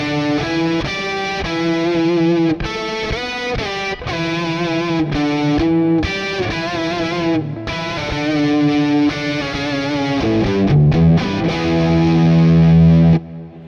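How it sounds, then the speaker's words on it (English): Distorted electric guitar run through a chromatic pitch shifter set a major third above the octave plus a fifth, giving loud, dense, clashing stacked chords with harsh intermodulation, played steadily alone for over ten seconds through a Kemper Profiling Amp. "Here I have a chromatic pitch shifter turned to a major third above the octave and a perfect fifth."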